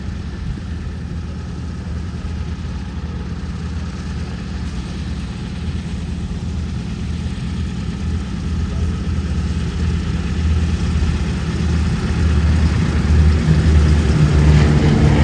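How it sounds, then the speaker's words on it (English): The Boeing B-17G Flying Fortress bomber Sally B at a Duxford airshow, its piston engines producing a deep, steady drone that swells gradually louder, heard at a distance. "The Boeing B-17G Flying Fortress,"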